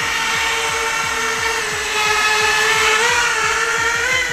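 An Eachine Tyro 99 FPV quadcopter drone on a 3S battery spins its motors in a steady, loud whine with layered buzzing tones that rise slightly partway through, sustained throughout without talk.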